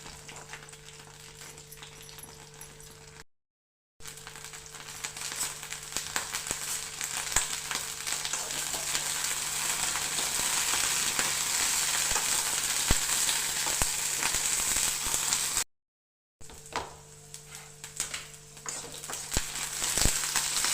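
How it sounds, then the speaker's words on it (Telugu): Green chillies fry in a pan for a tomato and gongura chutney, giving a steady, dense sizzle and crackle that runs throughout. Two short silent gaps break it. "ముందుగా అయితే మనం పచ్చిమిర్చి వేయించుకుందామండి"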